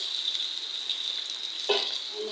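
Potatoes frying lightly in oil produce a steady high hiss, with a brief louder crackle near the end as they are stirred.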